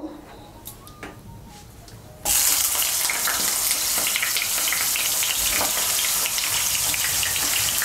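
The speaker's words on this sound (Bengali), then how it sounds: "এই তেলের মধ্যে আমি বেগুনটা ভেজে নেব।" Eggplant dropped into hot oil in a pan for a Bengali vegetable curry, a sudden loud sizzle bursting in after quieter kitchen sounds and then crackling steadily and densely, close up.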